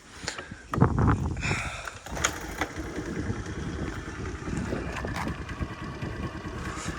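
A Honda Dio AF-62 scooter engine starts with a short burst, then settles into a light, steady idle that carries on evenly at close range.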